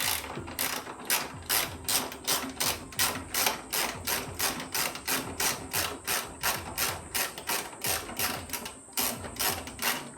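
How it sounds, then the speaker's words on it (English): A 14mm spanner ratcheting on car strut tower nuts, a close, rhythmic series of quick clicking strokes repeating evenly about twice a second throughout, with no talking. "So I'm going to get a 14mm spanner and undo these strut towers."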